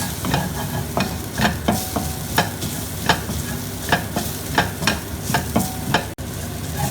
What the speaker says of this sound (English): Fry it till the rawness goes